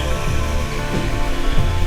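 Ocean surf rolls onto the shore at the end of a wet multi-day hike on the Juan de Fuca trail, a steady broadband wash of breaking waves heard close and loud without pause.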